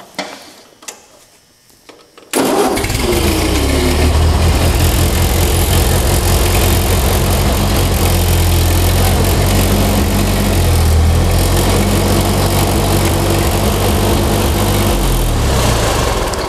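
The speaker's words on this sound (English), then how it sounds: "I'm gonna start the tractor up so that you can see how much of an improvement it is." A Ford 8N tractor engine cranks over and catches after a couple of seconds of quiet clatter, then settles into a loud, steady, close idle that runs on unbroken.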